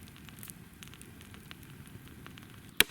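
A small campfire on a riverside meadow in the evening, burning scavenged wood, gives soft, scattered crackles under a steady faint hiss, ending with one sharp pop.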